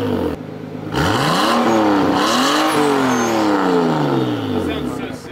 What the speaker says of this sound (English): It's a VVTI with the Supra block, Supra head, and then the whole turbo kit out of a Supra.